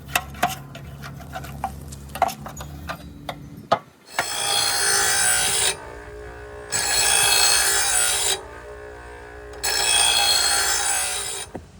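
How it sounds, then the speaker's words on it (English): Grass is scraped off the underside of a zero turn mower deck, first a string of sharp knocks and taps, then three long, loud raspy scraping strokes close by, separated by short pauses. "We're gonna scrape what we can."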